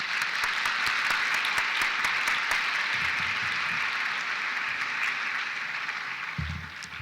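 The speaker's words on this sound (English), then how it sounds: "Please, let's give those scholars a round of applause." An awards ceremony audience gives sustained applause for scholarship recipients, a dense, even wash of many hands clapping at a steady level that fades slightly at the end, with a few low voices underneath.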